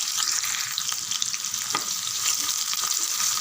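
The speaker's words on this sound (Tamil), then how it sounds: "வெங்காயம் நல்லா வதங்கட்டும்" Sliced onions sauté in hot oil with fennel, cinnamon and cloves for chicken gravy, giving a loud, dense, steady sizzle close by, with faint stirring scrapes and no talk.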